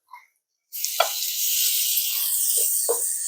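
Garlic shrimp hitting a hot pan with garlic, breaking into a loud, steady sizzle that holds, with a few soft clinks of the shrimp being spaced out.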